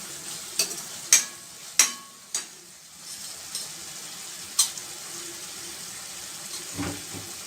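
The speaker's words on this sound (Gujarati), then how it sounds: "ટામેટા અને ડુંગળીને આવી રીતે થોડા મેસ કરતાં કરતાં ચડવી લેવાના છે" Several sharp clacks of a spoon mashing and stirring tomatoes and onions in a pan for pav bhaji, over a faint, low sizzle, spaced irregularly.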